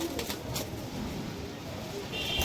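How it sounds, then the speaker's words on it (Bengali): A Pakistani high-flyer pigeon of the Teddy breed coos softly, with a few faint, low calls set against quiet background noise. "দাদার বাড়ি ওড়ানো পায়রা এটা সালারা টেরি নর"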